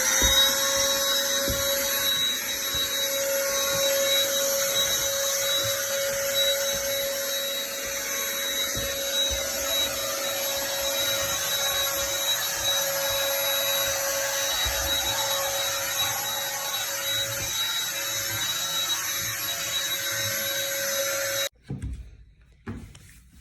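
A Black & Decker handheld vacuum cleans a reptile enclosure, whining steadily and loudly at close range for about twenty seconds before cutting off abruptly, with a few brief knocks after it stops.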